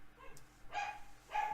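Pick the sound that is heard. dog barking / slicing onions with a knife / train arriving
dog barking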